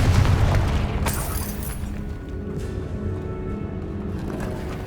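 A Confringo fire spell blasts in the Hogwarts Legacy video game inside an abandoned cave, opening with a loud booming burst that rumbles and fades into a steady low roar.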